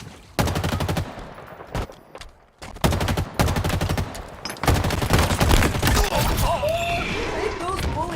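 Dense rapid gunfire from Halo Infinite multiplayer rattles in loud close bursts, with bullets spraying in quick rhythmic volleys broken by short pauses, then continuing under game announcer voices toward the end.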